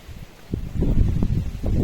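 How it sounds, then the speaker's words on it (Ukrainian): Low, gusty wind buffeting the microphone, building after a quiet start and rumbling steadily with rustling bursts. "Зато який вітер піднявся"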